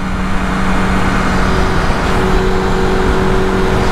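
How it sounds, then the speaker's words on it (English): Dodge Hellcat accelerating past a motorcycle on the road, heard as a loud, dense engine roar with steady tonal hum, mixed with road and wind noise at close range. "Wait, this is a Hellcat."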